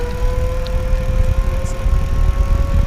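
An electric bike fitted with an EBO commuter conversion kit climbs a small hill, giving a steady loud motor whine with rumbling road and wind noise underneath, continuous and without talking.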